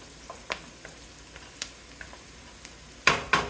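Onion browns in sausage juices in a pan with a low, steady sizzle, dotted with sparse ticks of stirring and two sharper scrapes near the end.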